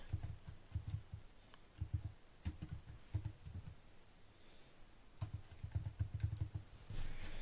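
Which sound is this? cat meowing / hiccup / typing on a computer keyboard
typing on a computer keyboard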